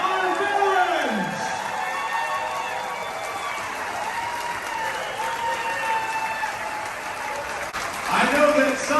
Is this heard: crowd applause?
yes